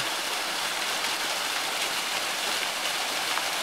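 Steady, even rushing of a winter waterfall with ice crystals, near Panch Pokhari in Nepal, a continuous hiss with no voices or breaks.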